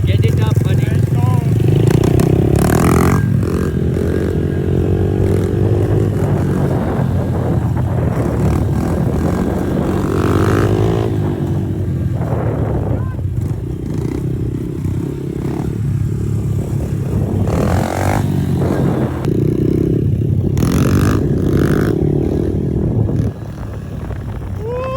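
Dirt bike engine revving hard during wheelies, a loud, continuous roar with rising and falling surges throughout, mixed with people talking and shouting over it.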